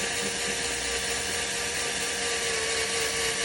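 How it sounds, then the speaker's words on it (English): A rivet tool setting a rivet gives off a steady, high mechanical whine and buzz, continuous and fairly loud, with no break or distinct click. "Voila, you got yourself a nice rivet."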